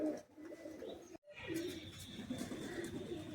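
Pigeons or doves coo softly and repeatedly in a bird shelter at Patan Panjrapol, a low continuous murmur of cooing with some faint chirps, fairly quiet, no talk.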